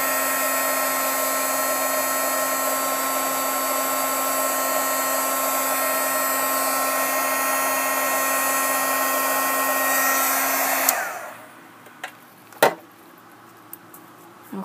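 A heat gun runs in a steady, loud, even whoosh for about eleven seconds while warming the back of a name tag, then cuts off, leaving a few faint clicks and taps.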